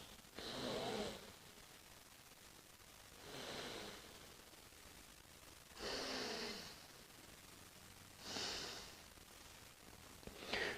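Slow alternate nostril breathing, four long airy breaths through the nose spaced a few seconds apart, soft and close with quiet pauses between.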